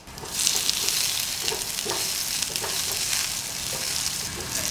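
Chopped garlic sizzles steadily in a hot pan, a dense continuous fry with soft crackles and a few small pops, close and fairly loud throughout with no talking.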